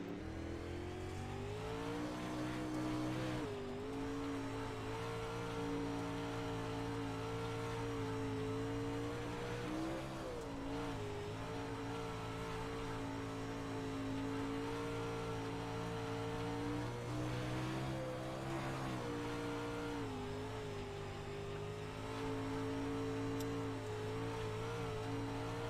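Onboard a Pro Late Model dirt race car driven by Chase Wascom, the engine holds a loud, continuous high-revving drone with pitch rising and dipping as the throttle is worked through the corners.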